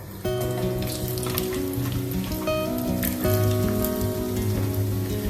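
Coconut pieces crackle and sizzle steadily in hot coconut oil, a dense spattering hiss that runs throughout beneath louder background music with sustained melodic tones.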